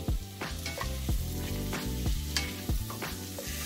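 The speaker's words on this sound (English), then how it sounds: "we're gonna introduce that sausage in there, that andouille. And we're gonna let this cook first." Andouille sausage frying over medium heat in a pan for Southern fried cabbage, a steady close sizzle with repeated scraping stirs of a utensil against the pan, no voices.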